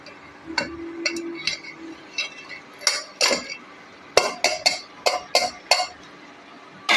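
Spoon clinks and scrapes against a cooking pot in a quick, irregular series of sharp taps while tomato and toor dal curry with fenugreek leaves is stirred; the sound is close and clear, with no talking.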